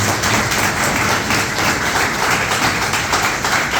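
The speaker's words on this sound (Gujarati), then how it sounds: "વગાડો તાળી." An audience clapping at a college seminar in Songadh, a steady dense wash of applause from many hands that holds even throughout without pause.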